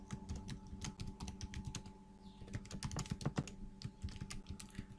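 Product name typed on a computer keyboard, a close run of quick, irregular key clicks with brief pauses, no voice over it.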